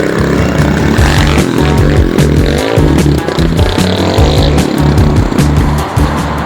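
A Thumpstar TSB250 dirt bike engine runs loud and close on a test ride, with a throbbing, pulsing drone that keeps rising and falling as the throttle changes.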